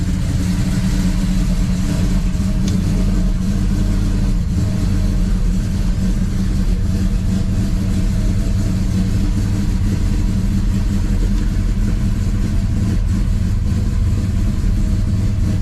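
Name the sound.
1967 Dodge Dart engine driving onto wood platform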